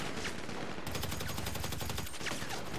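Gunfire in a team deathmatch in GTA V Online, dense rapid bursts of automatic shots crackling loudly and continuously, close and without speech.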